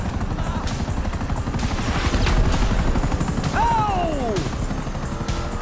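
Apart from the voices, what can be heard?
helicopter in the video game GTA V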